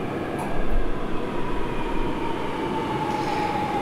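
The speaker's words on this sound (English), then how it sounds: "Please take one step back when the train is coming." A train rumbles steadily close by, a low heavy roar with a faint metallic whine running through it, no voices.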